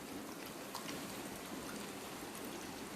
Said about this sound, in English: I'm adding some more water.